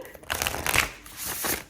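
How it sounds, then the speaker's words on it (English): Tarot cards being shuffled, a prototype impressionist art deck on sturdy cardstock, with two bursts of riffling and sliding card noise close to the mic and a short pause between them. "I already know that I'm gonna love this shuffle,"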